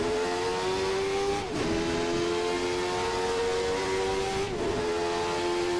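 A Jordan 191 race car engine in a racing game under steady throttle, a loud, close, high whine rising in pitch with two brief dips at gear changes.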